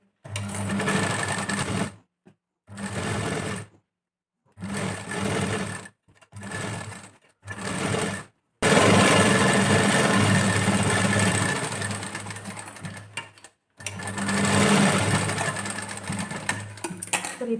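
A sewing machine stitching lace onto a princess-cut blouse whirs loudly in repeated short bursts, then runs in a longer steady stretch before stopping and starting again, with no talking.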